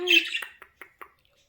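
A pet budgie gives a loud, harsh squawk followed by three short, evenly spaced chirps that fade off, close to the listener, with no talking.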